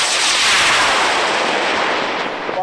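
A high power rocket, a PML AMRAM flying on a K-185 motor, roars off the pad at a launch event, a loud, steady broadband rushing blast filling the whole clip before easing slightly at the end.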